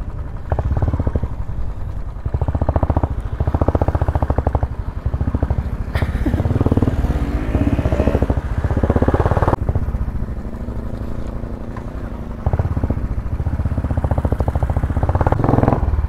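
A motorcycle engine runs steadily and loud throughout while being ridden, with a continuous mid-range drone and rattling clatter, and a brief change in tone partway through.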